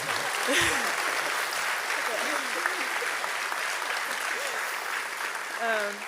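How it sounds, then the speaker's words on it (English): Audience applause at the GGC 2019 game award ceremony, a continuous wash of clapping across the hall with a few voices talking and calling out over it. "So Conrad also should have a big applause as well"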